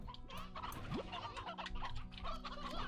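Stony hens cluck in a flurry of quick, overlapping calls in Slime Rancher, close and busy over a low musical drone, with no talking.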